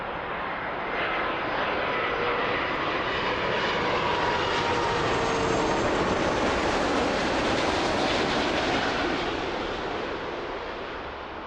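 A plane lands at Toronto Pearson airport, its engine roar loud and sustained, swelling toward the middle and easing slightly near the end, with no voices.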